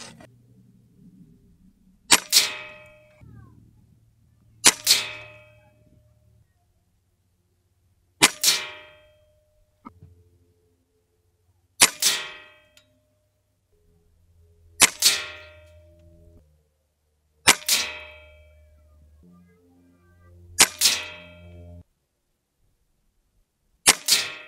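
An Umarex Octane Elite air rifle fires eight sharp, loud shots at spaced intervals, each a crisp crack with a short ringing tail and quiet gaps between.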